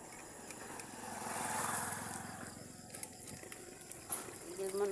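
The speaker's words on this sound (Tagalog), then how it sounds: "Dumaang motor." A motorcycle passes by on a road during a walk with a dog named Riley, its engine drone swelling and fading at moderate distance, with faint voices around.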